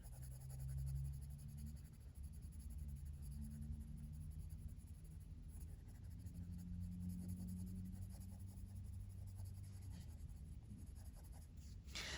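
A coloured pencil, slightly dulled, shading steadily on paper in a Johanna Basford Worlds of Wonder colouring book, a soft continuous scratching with no voices.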